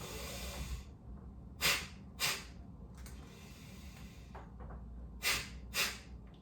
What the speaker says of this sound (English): So again, using my percussive breathing.